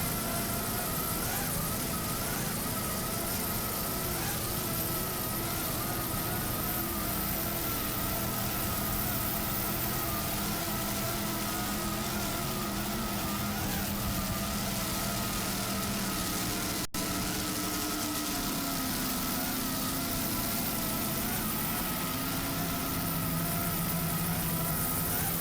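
Supercharged MRD engines on a 42-foot Outer Limits race boat roar continuously at speed during an offshore race at Key West, a loud steady drone with wind and water rush that persists for the whole stretch.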